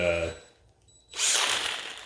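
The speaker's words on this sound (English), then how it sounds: "I use a drill, and I'll put this attachment right here. It's just a backer pad, and you put it into a drill" A backer pad attachment is fitted into a drill for sanding a tree cookie, with a tonal mechanical whir that drops away briefly, then a loud, close burst of ratcheting, grinding noise.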